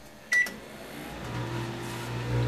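A microwave oven runs with a wooden pencil inside, giving a steady low hum that swells slightly toward the end, after a brief sharp click or beep near the start.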